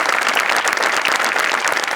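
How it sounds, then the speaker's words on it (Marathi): Audience applause after a duo's stage performance on a Marathi comedy show: dense, loud, continuous clapping from a crowd, filling the whole moment with no voices on top. "जोरदार टाळ्या"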